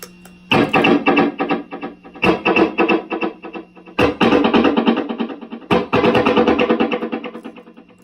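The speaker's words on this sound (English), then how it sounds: "So that's the sound of both delays together." Distorted electric guitar chords ring out with layered echoing repeats, loud and sustained, strummed in bursts with no talking.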